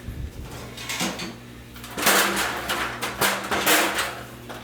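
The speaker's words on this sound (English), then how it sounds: "the washing machine's running, so you're not gonna be able to hear me at all" A washing machine runs in a laundry room with a steady low hum and surging, sloshing churn that swells and fades in uneven waves, loud and close.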